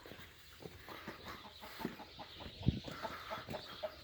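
Faint clucking of chickens, soft scattered clucks and short calls at a distance over a steady background hiss.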